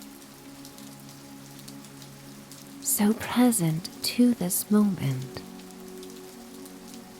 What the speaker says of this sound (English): The rain falls in a dense sheet, creating a shimmering, gilded reflection of the distant streetlights on the wet paving stones.